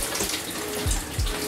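Shower water streams steadily onto hair as it is rinsed forward during conditioning, a continuous close hiss with a couple of deeper splashing surges.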